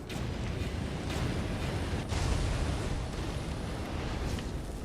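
Bomb spores detonating in Darksiders: Warmastered Edition, a broad rumbling roar of blasts with one sharper crack midway, sustained and loud with no talking.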